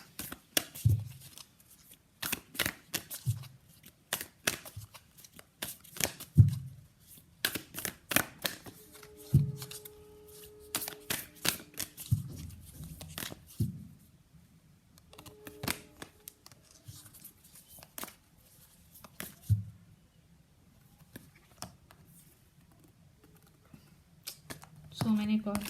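Oracle cards being shuffled by hand in a run of papery riffles and soft slaps, with quieter pauses between bursts and what may be faint speech in places.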